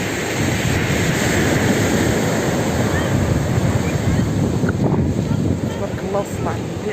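Sea waves wash and roll at Al Hoceima beach, a broad steady surf roar buffeted by wind across the microphone, with faint voices now and then.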